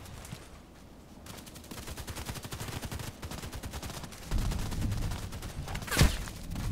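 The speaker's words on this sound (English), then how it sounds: "now I'm shooting from this side" M40A6 sniper rifle fired with a silencer in a video game, a run of muffled shots within a dense gunfire mix that swells midway and peaks in one sharp crack.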